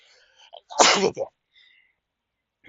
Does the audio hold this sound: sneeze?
yes